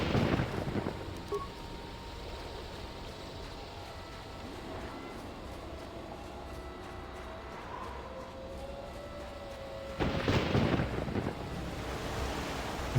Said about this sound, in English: Man, that thunder rumbling is really well done